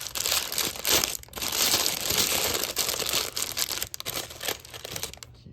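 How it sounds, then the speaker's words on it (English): Paper wrapping is torn and crumpled off a new pair of handcuffs, with loud, continuous close-up crinkling and tearing that runs nearly the whole time before stopping abruptly. "They come wrapped in this paper."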